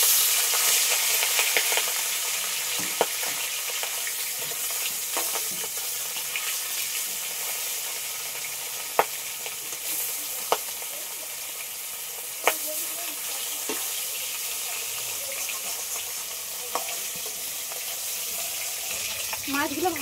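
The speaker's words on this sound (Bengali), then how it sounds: "তেল গরম হয়ে গেছে, এবার মাছ ভেজে নেব।" Cut rohu fish fry in hot oil in a wok, giving a steady broadband sizzle with a few sharp pops and clicks throughout.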